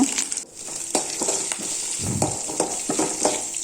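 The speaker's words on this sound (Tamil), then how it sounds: "நல்லா பொன்னிறமாக வரைக்கும் ஃப்ரை பண்ணி விட்டுக்கோங்க." Onions and curry leaves fry in a pan with a steady close sizzle, broken by a few scraping stirs, and no one speaks.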